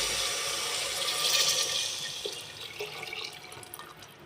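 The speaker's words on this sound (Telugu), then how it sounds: "ఫ్రెండ్స్, ఇప్పుడు వాటర్ పోయాలి, చూడండి." Water pours steadily into a cooking pot while pulao is being made in a home kitchen, a loud, continuous splashing rush that thins and grows more broken toward the end.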